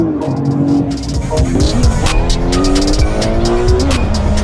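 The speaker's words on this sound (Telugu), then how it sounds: "సో విశ్వ నడుపుతున్నాడు కారు." A car accelerates hard, its engine snarling loud and close, with sharp tire squeals and skidding layered over the revving.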